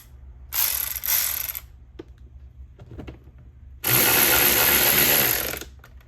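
A ratchet tightening the engine filter housing of a 2018-2024 VW Tiguan, with two short bursts of rapid clicking followed by a longer continuous ratcheting run, close and loud, with no talking.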